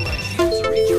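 A phone ringtone goes off during a game session, a short bright electronic tone sounding over a noisy background.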